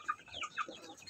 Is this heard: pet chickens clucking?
yes